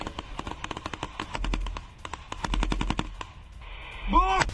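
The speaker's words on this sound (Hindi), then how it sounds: "रूसी सेना ने ड्रोन पर की अंधाधुंध फायरिंग।" A machine gun fires at a drone in the Russia-Ukraine war, rapid bursts of sharp, evenly spaced shots, loud and close, pausing briefly between volleys.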